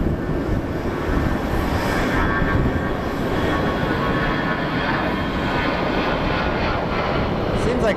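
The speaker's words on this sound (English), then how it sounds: "Like a super nice takeoff." A plane takes off from Phoenix Sky Harbor Airport, its loud, steady, broadband jet roar filling all eight seconds without letup.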